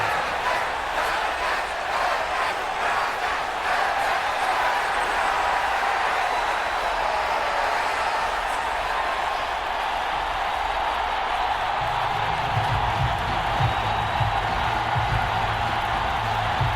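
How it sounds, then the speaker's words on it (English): Video-game stadium crowd in a Madden NFL match roars steadily after a late fourth-quarter touchdown, a dense wash of cheering with a faint scattered clapping texture, holding level for the whole stretch. "This crowd alive again"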